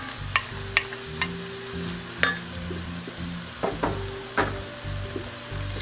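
Ground beef and ground lamb sauté with vegetables in a pan for a shepherd's pie, a steady sizzle broken by several sharp utensil scrapes and clacks of stirring, close up with no talk.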